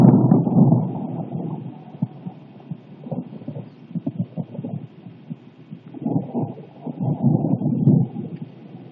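Thunder rolls through a lightning storm as a low, rumbling, throbbing roar that swells, eases off and builds again, fairly distant and heard alone.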